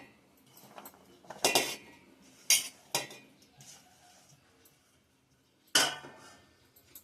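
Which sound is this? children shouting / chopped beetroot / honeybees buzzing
chopped beetroot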